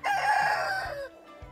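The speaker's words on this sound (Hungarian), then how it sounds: "Araukánának hívják ezt a tyúkot." Araucana hen, a Chilean chicken breed, gives a loud drawn-out crowing call close by that lasts about a second before fading into quieter background noise.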